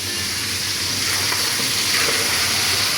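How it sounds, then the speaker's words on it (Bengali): Meat frying in hot oil gives a steady, loud sizzle with dense crackling spatter throughout, with no one speaking over it. "মাংস যে ছিটাইতেছে"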